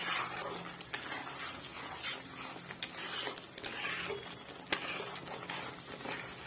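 Masala spices fry in hot oil for a small-fish mustard curry while a spoon stirs them, producing a steady close sizzle with scraping and light clinks of the utensil against the pan.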